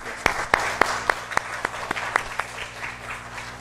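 A church congregation claps after an accordion hymn at a children's department annual meeting, producing a brief run of distinct, fairly sharp claps, a dozen or so in quick succession, that fade out toward the end.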